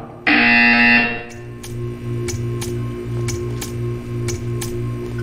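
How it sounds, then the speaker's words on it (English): A loud, harsh video game buzzer blares for about a second, then a steady ticking pulse continues beneath a low electronic hum. "You will hear a buzzer."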